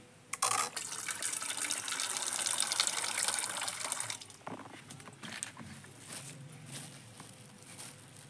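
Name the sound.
fish being washed under running tap water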